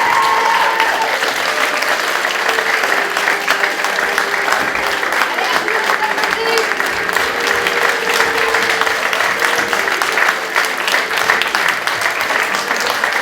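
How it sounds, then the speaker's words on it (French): Sustained applause from an audience at a dance gala, dense and steady clapping filling the whole stretch without a break. "Sous vos applaudissements et des remerciements"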